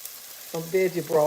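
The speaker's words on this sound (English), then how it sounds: "So I'm gonna take some veggie broth" Veggie broth goes into a hot pot of homemade vegetable soup with carrots, bringing a steady sizzling hiss. Strong tonal, voice-like sounds rise over it in the second half.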